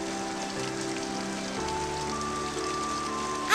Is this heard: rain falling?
yes